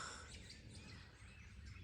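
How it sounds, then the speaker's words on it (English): On a chilly winter hike, birds chirp faintly and at a distance, their thin calls sitting over a steady, soft background hiss. "There's tons of bird sounds."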